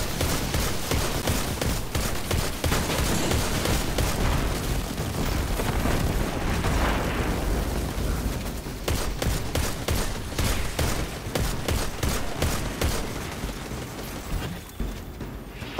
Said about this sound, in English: Probably prefer like an auto rifle. I love the scout rifles, but auto rifle you just shred through them